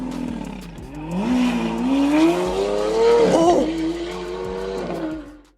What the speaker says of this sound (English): The sound of a large engine can really annoy people.